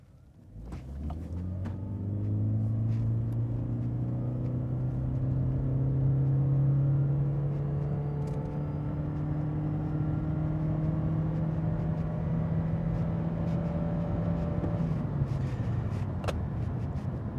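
A 2017 Lexus CT200h hybrid car pulls away from a stop with a steady, rising engine drone and whir that climbs gradually in pitch over many seconds, loud and continuous from inside the cabin, with no talking.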